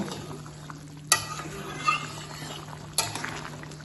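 Chicken cooking in a pan for malai chicken is stirred lightly after the lid is lifted, a soft sizzle under a few sharp spoon scrapes and knocks against the pan, close and fairly quiet.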